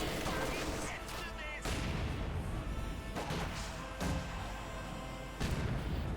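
Gunfire and explosions in the World War II strategy game Company of Heroes 2, with dense overlapping shots, booms and crashes in loud bursts filling the whole stretch, with game voices in the mix.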